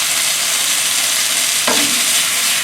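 Asparagus stir-fries with garlic and olives in a hot pan, giving a loud, dense, constant sizzle. One brief scrape of a utensil is heard partway through.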